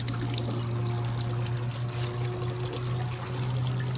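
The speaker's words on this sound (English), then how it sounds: "And all the water is just shooting straight into there and then draining down into the bucket" Water from a newly plumbed outdoor fishing sink faucet with a brass fitting shooting into the basin and draining down into a bucket, a steady close splashing pour with a faint hum beneath.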